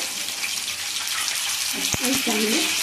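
Curry leaves dropped into hot oil give a loud, steady hiss and crackle of frying, close up, with a brief clunk and a short stretch of voice near the end.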